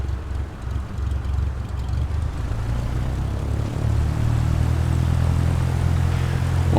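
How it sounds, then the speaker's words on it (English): A Cessna 172 light aircraft takes off on a bush airstrip in Botswana. The propeller engine drone builds steadily louder and deeper, with wind rushing over it, heard from inside the cabin and with no talking. "we're going to take off away from the sun, otherwise it gets in my eyes"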